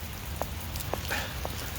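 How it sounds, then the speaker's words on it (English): Heavy rain comes down in a steady, hissing downpour during a hurricane, with a few faint intermittent sounds over it and no talking. "the rain's coming down heavy"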